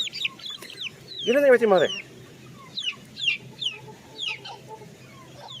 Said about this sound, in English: Like this little chicken going crazy